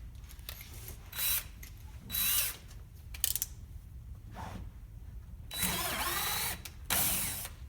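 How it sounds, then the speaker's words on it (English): A power drill with a pre-drill bit boring through the bottom of a muslin-covered theater flat, heard as several short, loud whirring bursts separated by pauses, with lighter handling clatter in between. "got my drill set up with the pre-drill bit that I need. I'm going to take this and go through the bottom of my flat"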